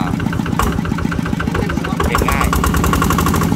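An original, stock engine in an older vehicle revving in a repair shop, a loud, close, steady mechanical drone that rises in intensity partway through, with brief speech over it.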